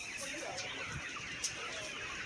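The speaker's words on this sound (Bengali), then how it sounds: "এই যে মুরগিগুলো দেখুন কত সুন্দর মুরগি।" Caged chickens cluck faintly in a coop, soft scattered calls over a low background hum, with a quiet voice nearby.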